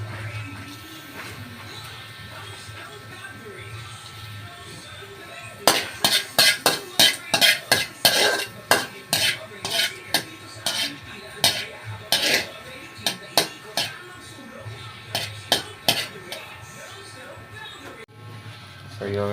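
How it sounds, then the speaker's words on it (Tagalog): Garlic sautéing in a pan: a steady background sizzle joined by a quick run of metallic scrapes and clinks of a utensil against the pan, with a person talking over it. "So yun, nagigisa na tayo ng ating bawang."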